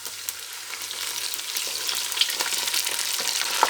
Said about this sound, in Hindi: अब हमको इसको भूनना है